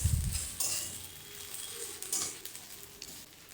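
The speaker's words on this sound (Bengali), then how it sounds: "হালকা ভেজে নিচ্ছি।" Ginger garlic paste and onion frying lightly in oil for a bata fish curry: a soft, faint sizzle with scattered stirring scrapes and taps, close by and without speech.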